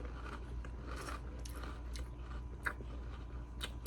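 Someone chews Airheads taffy candy close up, with soft, sticky, wet mastication sounds repeating in an uneven rhythm. No talking, steady and fairly quiet.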